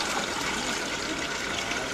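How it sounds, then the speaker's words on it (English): Water drains straight down through an opening without forming a vortex, a continuous close gushing pour that stays steady and fairly loud throughout. "no whirlpool, no vortex, the water falls straight down"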